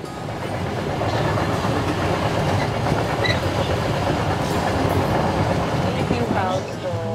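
A Swiss train rolling steadily along the tracks with a continuous rumble and rhythmic clatter of wheels, a faint squeal near the end, heard from onboard.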